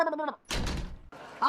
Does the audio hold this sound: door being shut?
yes